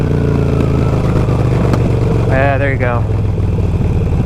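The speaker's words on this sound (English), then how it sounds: "Let me see if I can get you guys a little bit of that snap, crackle, pop so you can see what I was talking about." A Harley-Davidson Sportster with loud aftermarket exhaust pipes, in first gear at just over 3,000 rpm and then decelerating, gives a loud, steady, close exhaust drone; someone speaks briefly over it.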